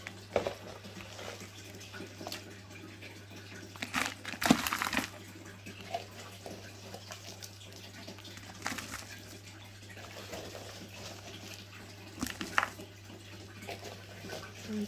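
Potting mix scooped into a plant pot for a peace lily, a faint, scattered patter and rustle of soil with a few louder pours and knocks, recorded close in a quiet room.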